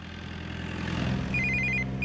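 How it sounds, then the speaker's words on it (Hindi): A telephone rings nearby with short, repeated bright trills, heard over a low engine hum and background noise. "ए, बाजू में लगा फोन आ रहा है।"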